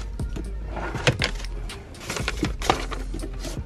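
A few short metallic jingles of the keys to a 2023 Chrysler 300C being handled close by, with soft clicks and shuffling between them.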